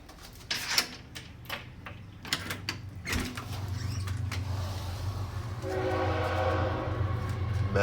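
A video-game train rumbles past, with clattering rail clicks early on and then a sustained heavy rolling roar and a horn-like tone building toward the end, loud and close.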